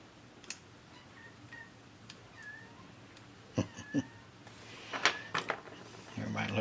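A cat meows outdoors in a few short, faint, rising calls spread through the stretch, among light clicks and rustling, with some louder bumps near the end.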